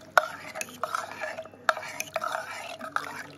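A ladle stirs mutton bones and curry leaves inside a pressure cooker, giving close, fairly quiet scrapes and clinks in a few uneven bursts, with wet shuffling between strokes and a soft voice faintly underneath.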